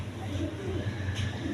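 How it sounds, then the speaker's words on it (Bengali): Large Gopalganj pigeons cooing in a bird market, soft low coos over constant crowd murmur and background noise. "দেখেন গোপালগঞ্জের বড় পায়রা"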